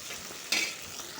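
Onion, garlic, curry leaves and tomato sautéing in a pan, a soft steady sizzle with a short louder burst of stirring midway, close and alone without speech.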